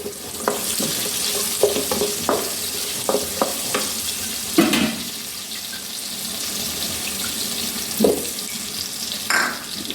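Onion and bitter gourd masala frying in a pan, a loud continuous sizzle broken by clattering stirs and scrapes of the spoon, close and without voices.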